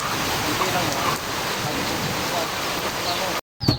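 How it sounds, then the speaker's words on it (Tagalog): Steady rain pours down onto a roof and balcony around a bahay kubo, forming a dense, even hiss that cuts out abruptly near the end before briefly returning. "Umuulan."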